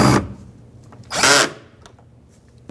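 Two short bursts of a power drill driving trim screws into an Acura MDX door panel, close and loud, with a quiet gap between them.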